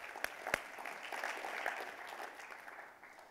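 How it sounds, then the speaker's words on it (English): An audience at a motivational life-vision talk gives a brief round of applause, opening with a couple of sharp claps before settling into a light, thin patter that fades out toward the end. "Give yourself a round of applause for working hard on yourself"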